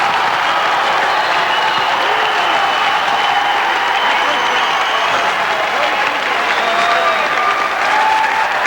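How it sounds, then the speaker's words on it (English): Crowd in Hellenbeck Hall, a college basketball arena, cheers and applauds loudly and steadily throughout, a dense roar of clapping and shouting with no let-up. "when you get the crowd going, it's probably one of the loudest arenas in the conference"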